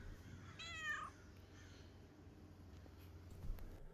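A cat gives one short, drawn meow up close in a quiet room, with faint low background hum before and after.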